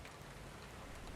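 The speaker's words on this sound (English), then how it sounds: "The mare shivered in the cold rain." Cold rain pours steadily, making a dense, even rush of drops striking a surface that fills the whole short stretch at close range.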